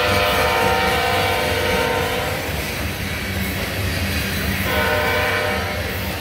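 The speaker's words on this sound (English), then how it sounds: "I thought it was a power move, but it's a ballast train." A CN ballast train led by ET44AC and ES44AC locomotives heads south, its horn blaring loud and close in two long blasts over the steady rumble of the passing engines.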